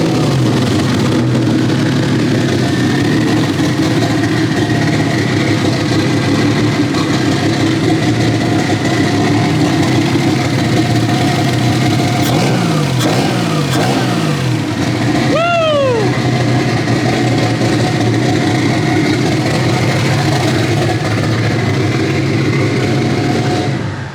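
A BMW E36 engine runs at a steady, rumbling idle close by for over twenty seconds, with a few rising whistles from turbo spool partway through.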